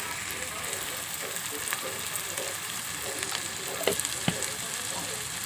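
Soy chunks frying with onion pieces and turmeric in a pan, a steady moderate sizzle with occasional soft scrapes and taps from stirring.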